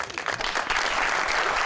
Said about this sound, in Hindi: जल्मी के जरा सपोर्टर्स जरा तालियां बजाएं